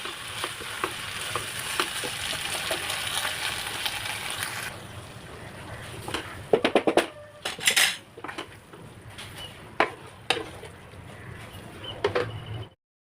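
Garlic butter chicken being moved into another pot, with metal utensils clanking and scraping against cookware over a faint sizzle, then sharper bursts of clattering near the end.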